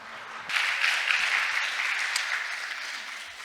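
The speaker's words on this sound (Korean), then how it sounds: "큰 박수로 맞아주시기 바랍니다" Applause breaks out after a brief pause as a closing speaker is welcomed at a conference, holding steady as a dense wash of clapping from a large crowd, without talk.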